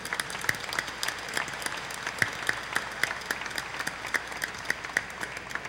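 Audience applause at a solemn session of the Rio de Janeiro state legislature honoring physical education professionals, a steady, moderately distant wash of many hands clapping with crisp individual claps standing out throughout.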